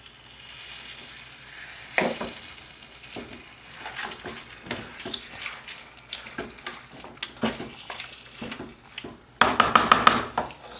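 Chicken stew with sugar being stirred in a pot, with repeated scraping and knocking strokes over a sizzling fry, building to a louder burst of sizzle near the end.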